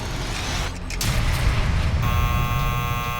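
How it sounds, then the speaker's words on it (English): An apartment building door buzzer in a true-crime reenactment, a steady electronic buzz sounding continuously under a dense background of noise, with a slight swell partway through. "She hears the buzzer, but the intercom is not working"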